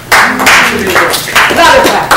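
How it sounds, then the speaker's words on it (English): Audience members at a Toastmasters speech contest clap in bursts of moderate loudness, close and uneven, with voices talking over the applause. "Another clap."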